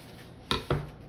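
Two quick, crisp knocks of a cutter slicing down through a block of soft wax melt against a hard surface, close and fairly quiet, with a short gap between them and no talking.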